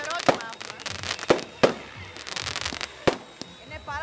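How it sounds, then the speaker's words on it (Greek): Fireworks burst at a night helicopter flying show, several sharp bangs and crackles scattered irregularly, some near and loud, with people talking and exclaiming between the explosions. "Και τα πυροτεχνήματα και τα ελικόπτερα."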